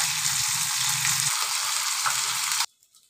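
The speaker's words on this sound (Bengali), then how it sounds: "প্রথমে মাছগুলো ভেজে নেব" Tangra fish coated with salt, turmeric and a little flour sizzles loudly in hot oil in a steady crackling fry, then cuts off abruptly near the end.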